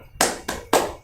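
Three sharp, loud hand claps in a quick rhythmic burst, close and dry, done as a group cheer-clap during a training session, with no talk over them.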